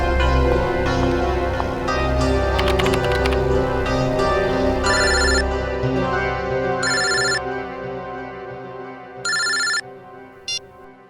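A telephone rings in an office scene from a crime drama, with repeated bursts of electronic ringing over a steady background music bed, the rings growing sparser toward the end.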